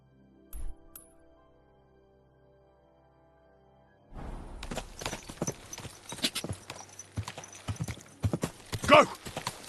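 Horse hooves clip-clopping on ground in Kingdom Come Deliverance 2, a steady walking rhythm starting after a few seconds of near silence, with faint clinks of tack mixed in.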